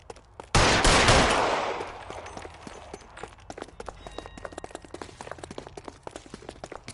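Gunfire in the video game L.A. Noire: one loud, close blast with a long decaying tail, then a run of quicker, fainter shots and clattering hits.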